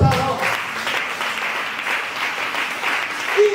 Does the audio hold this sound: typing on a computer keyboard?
no